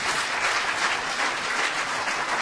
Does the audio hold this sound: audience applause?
yes